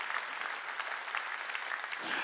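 A church congregation at a Sunday worship service breaks into steady, dense applause that holds at an even level for a couple of seconds, with no voices on top.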